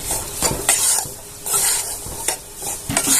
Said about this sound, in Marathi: मैदा छान असा मस्त भाजून घ्यायचा